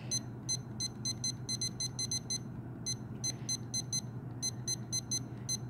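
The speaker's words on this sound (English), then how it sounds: "we're going to set that timer" A blood bank lab timer gives quick bursts of high electronic beeps in a repeating pattern while it is set, over a low background hum, with no talking.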